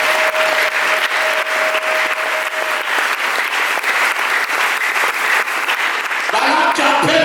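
A church congregation applauds steadily and loudly, with a dense, continuous clapping that holds throughout and voices rising near the end.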